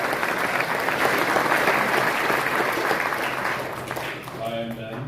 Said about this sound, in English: Everyone give a big round of applause